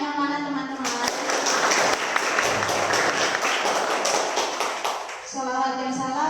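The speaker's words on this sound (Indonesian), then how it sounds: "Tepuk tangannya mana teman-teman?" An audience at a Gema Ramadan gathering breaks into dense, sustained clapping for several seconds, bracketed by a speaker's amplified voice talking just before and after.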